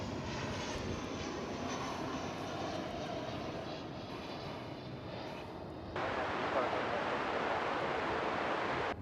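American Airlines airliner on runway 18 right at Dallas/Fort Worth Airport, a continuous loud jet engine roar that swells further partway through, heard at a distance with wind-like broadband rush.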